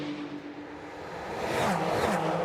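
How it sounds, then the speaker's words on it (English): Ferrari 296 Challenge race cars roaring past at Monza during qualifying, a far engine roar swelling louder as the cars approach and sweep by the trackside barrier. "Love the speed and the sound of these 296 Challenge cars as they roar past our camera"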